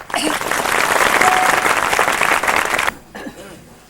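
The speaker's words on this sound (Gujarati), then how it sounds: "આશા છે આપ સૌ ભક્તો તાળીના ગડગડાટથી એને વધાવી લેશો" A gathering of devotees at a religious assembly claps in loud, sustained applause for nearly three seconds, then it cuts off and a few scattered claps follow.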